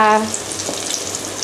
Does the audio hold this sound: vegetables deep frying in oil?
yes